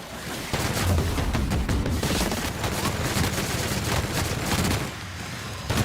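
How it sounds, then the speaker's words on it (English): Dense, continuous bursts of gunfire fill a firefight in the video game The Outer Worlds, loud and sustained for about five seconds before easing off. "Opening fire!"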